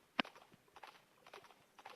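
Horse hooves clip-clop in a western gunfighter video game, a faint, light rhythm of scattered hoof steps after one sharper click at the start.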